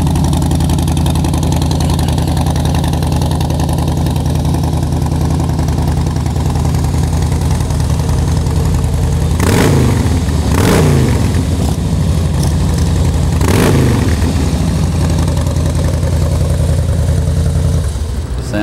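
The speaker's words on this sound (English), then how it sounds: "Yeah, that's upgraded exhaust on this bike." Harley-Davidson Fat Boy Low FLSTFB with an upgraded exhaust and under 1,000 miles idles with a deep, loud, steady V-twin rumble, then gets three sharp throttle blips late in the run.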